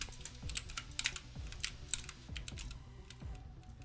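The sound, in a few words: computer keyboard typing from a player's stream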